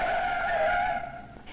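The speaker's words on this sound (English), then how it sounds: "The police car had good brakes," A police car braking hard, its tires squealing and skidding in a loud, sustained screech that fades as the car slows to a stop.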